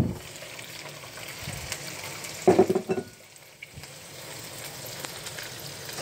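Raw squid dropped into a hot pan with a short burst of loud sizzling and frying that settles into a quieter, steady crackle, alone with no voices.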